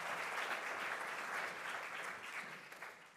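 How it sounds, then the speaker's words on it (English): Conference attendees give a speaker another round of applause at an electricity market design session, a full, even patter of many hands that thins slightly toward the end. "Can we give him one more round of applause, ladies and gentlemen, please?"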